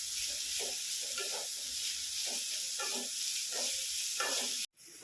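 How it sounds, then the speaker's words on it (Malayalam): Onions sautéing in oil in a pan, a steady bright sizzle with repeated scraping stirs at a slow rhythm, heard close up, ending with a brief dropout. "സവാള നന്നായിട്ട് വഴറ്റി വരും."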